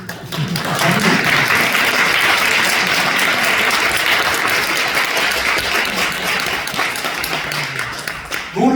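A church congregation at a Korean revival service breaks into sustained, dense applause, many hands clapping together at full volume for several seconds before it tapers slightly at the end.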